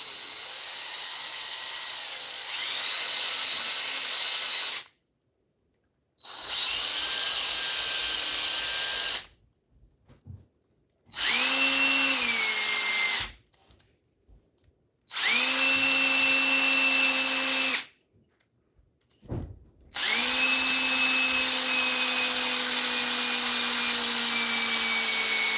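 A power drill with a dead battery whirs in several bursts separated by silences, its motor pitch sagging and sliding as each run winds down. No one speaks over it.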